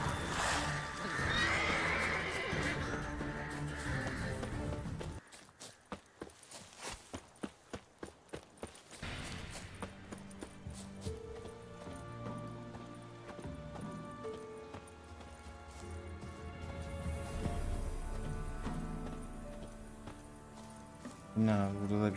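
Roach the horse whinnies loudly in The Witcher 3: Wild Hunt, followed by a run of rhythmic galloping hoofbeats and further game sounds, with someone talking over parts of it.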